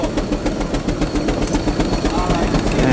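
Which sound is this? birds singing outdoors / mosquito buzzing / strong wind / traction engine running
traction engine running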